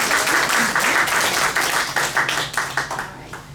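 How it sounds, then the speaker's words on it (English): At an art league winners' presentation, an audience claps in a full round of applause that starts thick and steady, then thins into scattered, separate claps as it winds down. "So let's give them a round of applause."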